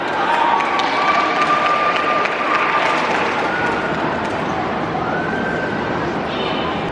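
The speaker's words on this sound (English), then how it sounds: "You can hear when Mickey came out because he got a big round of applause" Big round of applause from a breakfast crowd at Chef Mickey's in Disney's Contemporary Resort as Mickey Mouse walks out, a steady dense wash of clapping with crowd chatter and a few tonal whistles or squeaks in the room.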